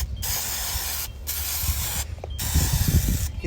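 Short bursts of hissing spray adhesive, three or four presses of an aerosol nozzle with brief pauses between, close and fairly loud, spraying in web-like strands for gluing a fin on a whitewater kayak.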